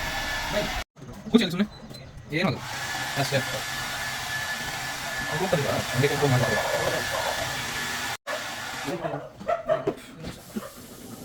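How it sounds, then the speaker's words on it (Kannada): A hair dryer blows with a steady, close roar while a German Shepherd whines and whimpers over it during drying after a bath; voices are heard faintly at moments. "ಹೇರ್ ಡ್ರೈಯರ್ ಅಂದರೆ ಆ ಸೌಂಡ್"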